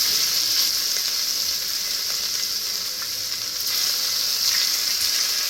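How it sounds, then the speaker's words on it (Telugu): Paneer cubes with a little turmeric shallow-fry in ghee, making a loud, steady hiss of sizzling oil that swells and eases slightly, heard close up and alone. "ఇది కొంచెం షాలో ఫ్రై అంటే ఆ పాల వాసన లేకుండా కొంచెం గీ స్మెల్ వస్తుంది"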